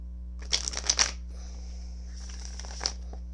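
A deck of playing cards shuffled by hand, with a quick burst of riffling flutters near the start and a softer riffle later, over a steady low hum in a quiet room.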